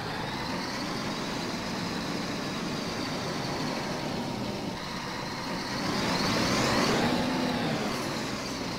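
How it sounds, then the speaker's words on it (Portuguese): Exterior engine note of a Marcopolo G6 1200 bus in Euro Truck Simulator 2, a steady broadband idle drone that swells slightly near the end, with no voices. "Vamos conferir um pouquinho, ó, o som do motor por fora"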